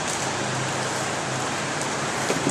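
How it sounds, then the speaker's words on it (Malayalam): Sudden heavy rain pours down outdoors in Cochin, a dense, steady hiss of downpour on surfaces, loud and unbroken throughout with no talk. "പ്രതീക്ഷിക്കാതെ ഒരു അടിപൊളി മഴ."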